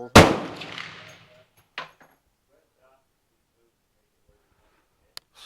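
FN FAL STG58 rifle firing a single loud, sharp gunshot that decays quickly, followed by a faint clank and a small metallic tick, no one talking.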